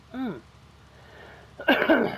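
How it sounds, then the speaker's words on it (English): A man with a croaky throat coughs harshly in a short, rough burst near the end, following a brief voiced sound and a quiet pause. "I'm coughing."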